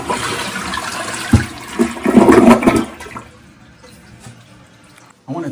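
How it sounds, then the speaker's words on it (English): An American Standard Champion toilet with a 4-inch flush valve flushes nearby in one strong gurgling rush that peaks midway, then fades to a quiet trickle and refill hiss. "I'm gonna do a quick flush here just to kind of show you guys"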